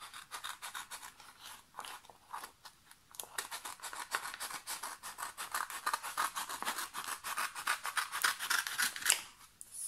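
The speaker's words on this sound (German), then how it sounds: "Also ich könnte es auch mit der Schere ausschneiden." Scissors cut along a strip of double-sided transparent diamond painting foil in a steady run of close, crisp snips and rustling slices with no talking.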